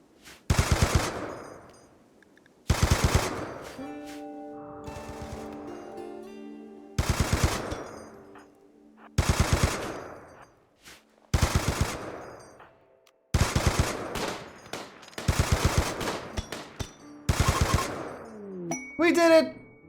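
Repeated bursts of automatic gunfire in the video game RimWorld, with about eight short volleys spaced a couple of seconds apart and faint voices and game sounds between them.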